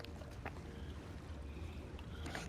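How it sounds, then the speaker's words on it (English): Video-game paddles in Red Dead Redemption 2 dip and splash in water in irregular strokes over a steady low background rumble, with no voices. "the splashing water from the paddles"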